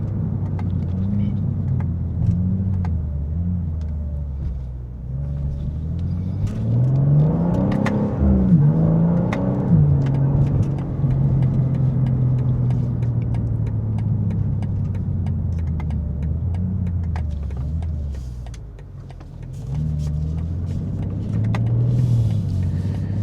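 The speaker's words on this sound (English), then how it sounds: "you can go ahead and drift this vehicle because it's full on rear-wheel drive" A 2025 BMW M2, pure rear-wheel drive, hums and revs while driving, its engine note rising and falling under a steady road rumble with a voice talking over it.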